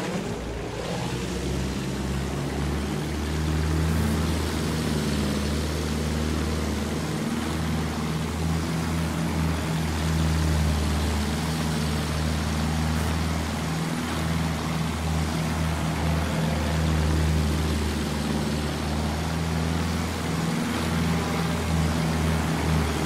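A propeller fighter plane engine in the video game Battlefield 1 gives a loud, steady droning roar that holds throughout with only slight surges in pitch. No voices are heard.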